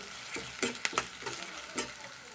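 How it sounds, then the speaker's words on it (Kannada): Onions frying in a pan for a potato gravy, a continuous sizzle broken by several sharp spatula scrapes and stirring knocks close by. "ನಾನು ಒಂದು ನಿಮಿಷಗಳ ಕಾಲ ಈರುಳ್ಳಿ ಫ್ರೈ ಮಾಡ್ಕೊಂಡಿದ್ದೀನಿ"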